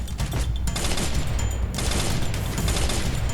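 Gunfire rattles in a shooting video game, with dense bursts of rapid shots and booms that run continuously and loudly, with no talk.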